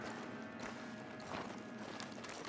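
Horse hooves clip-clop in Red Dead Redemption 2, the Wild West video game. The steps are faint and irregular under a low, steady background hiss.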